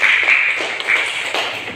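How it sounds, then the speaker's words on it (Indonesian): A class of schoolchildren claps together in an Indonesian classroom lesson, a brief burst of close, bright hand claps with a few uneven taps. "Tepuk tangan untuk kita semuanya."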